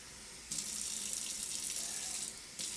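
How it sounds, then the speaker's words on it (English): Hot water from a kitchen tap runs into a measuring cup, a steady close splashing hiss that starts abruptly, holds evenly for about two seconds, then stops. "we're going to run the tap water for a little bit"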